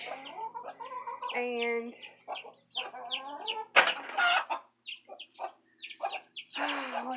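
Frizzle, Silkie and Easter Egger chickens and their chicks cluck and chirp close by in a steady stream of short calls, with a few louder squawks and a brief human voice among them.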